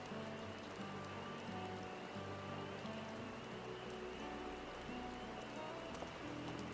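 Rain falling in the video game Final Fantasy XIV: Dawntrail, a steady dense patter of drops on surfaces, constant and even throughout, with low ambient hum beneath and no speech.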